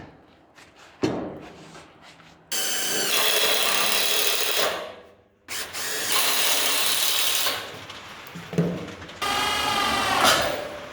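A power drill drives screws into the decking of a homemade trailer: several loud whirring bursts of a few seconds each, ramping up and stopping, separated by clicks and short quiet gaps, close by.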